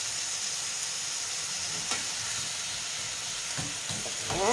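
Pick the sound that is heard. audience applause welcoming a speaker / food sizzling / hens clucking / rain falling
food sizzling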